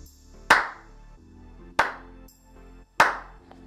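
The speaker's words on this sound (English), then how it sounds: "So you can see if I clap" Three separate sharp hand claps in a quiet room, spaced about a second apart, each a crisp close snap with a brief ring-out, testing a floor lamp's music mode.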